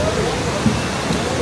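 A large waterfall in Vietnam roars as a steady, loud wash of broadband rushing water, continuous for the brief moment with no pauses.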